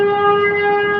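A typhoon warning siren wails loud and steady, one unbroken tone with strong harmonics and no speech.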